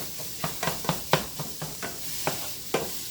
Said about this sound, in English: we're going to brown the sausage up